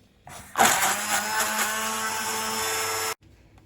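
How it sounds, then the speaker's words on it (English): A blender starts with a click and whirs loudly and steadily for about two and a half seconds, blending a cooked chestnut mixture, then cuts off abruptly. "she's going to use the blender to blend it in"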